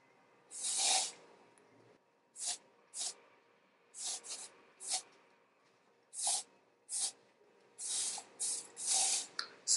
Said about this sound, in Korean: 스프레이는 너무 많이 뿌려주지 말아주세요.